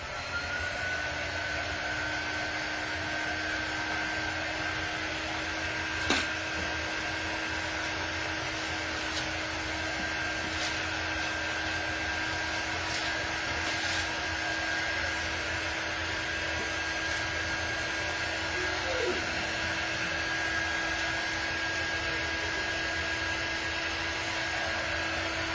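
A hair dryer blows steadily and loudly for the whole stretch, drying craft paint on a Valentine's door hanger, with a constant whooshing hum and no talking.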